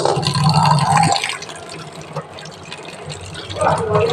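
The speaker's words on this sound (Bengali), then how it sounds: "এবারে আমি এটাকে ভালো করে ছেঁকে নেব" Water pours and splashes as soaked chana dal is strained, a close gurgling rush that eases into quieter trickling and then rises again, with faint voices behind it.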